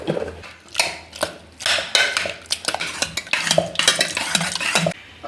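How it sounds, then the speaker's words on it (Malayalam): Cooked pumpkin mashed in a metal pot with a little salt, giving a series of close, uneven scraping and thudding strokes of a utensil against the pot, with brief pauses between bursts and no talking. "ഇനി നമുക്കിതൊന്ന് ഉടച്ചെടുക്കാം അതിന് നമുക്ക് ഇത്തിരി ഉപ്പ് ചേർക്കാം"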